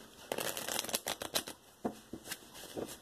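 Papery riffling of tarot cards being shuffled in a few quick bursts, close and fairly quiet, with short pauses between shuffles.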